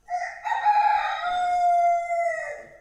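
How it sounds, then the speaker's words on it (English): A rooster crows one long, clear cock-a-doodle-doo, close and loud, rising then holding a sustained ringing note before trailing off, with no other sound around it. "I got that rooster"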